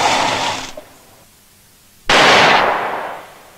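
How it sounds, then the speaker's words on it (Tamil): Two loud, sharp gunshot blasts ring out in a Tamil comedy film scene, the first decaying over about half a second, then a short quiet gap before a second, heavier crack with a longer fading tail. "அப்புறம் துப்பாக்கி சத்தம் கேட்டுச்சு சார்."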